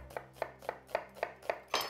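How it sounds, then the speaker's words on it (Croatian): A knife finely chops onion on a board, seven or eight evenly spaced, crisp thuds close by, the last slightly louder. "Najprije ćemo rezati sitno kosani luk."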